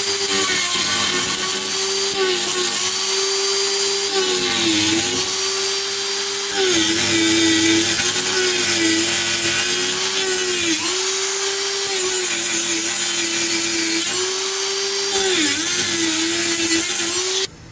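A Dremel rotary tool grinds car body metal where a rib was removed for a bonded window, producing a loud, steady high-pitched whine. Its pitch dips briefly several times as the bit bites into the metal.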